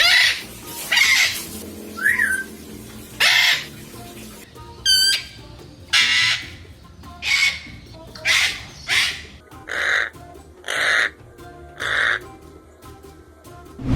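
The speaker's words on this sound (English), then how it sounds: "The Eclectus parrot is a noisy bird when it makes a sound." An Eclectus parrot gives loud, harsh, shrill calls, a dozen or so squawks in uneven bursts, some hoarse and some more whistled, close to the listener.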